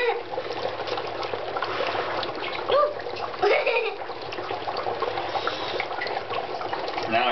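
An object splashes and fizzes in a tub of hot water, with steady bubbling and trickling plus a couple of louder splashes near the middle, heard close up, with faint voices at times.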